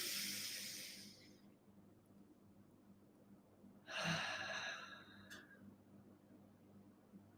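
Slow, deep breaths during a guided breathing exercise: a long airy exhale that fades, a pause, then a sharp deep inhale and a shorter breath out, quiet and close with no talk.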